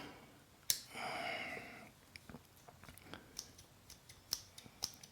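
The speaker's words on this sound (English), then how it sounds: "Grab the scissors out." Scissors drawn out of a TwoSun TS206 multi-tool give a sharp metallic snap, a brief scraping slide, then a series of small quiet clicks and ticks, all close and faint in an otherwise quiet room.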